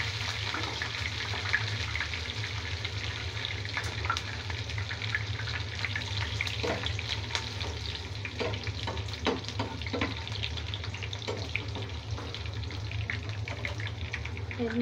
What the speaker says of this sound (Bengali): এখন এর মধ্যে দিয়ে দিব রসুন কুচি আর হচ্ছে 4টা শুকনো মরিচ। এগুলো আমি ফ্রাই প্যানে ভাজবো।